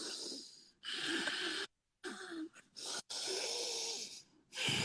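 A person imitates the heavy, hissing Darth Vader-style Ujjayi breathing used in yoga, several loud raspy breaths in and out with short pauses between them, close and alone.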